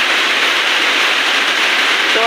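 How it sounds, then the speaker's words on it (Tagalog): Heavy rain pours steadily during a typhoon in Pampanga, a dense, loud, unbroken hiss of downpour with no voices. "Sobrang lakas ng ulan mga idol."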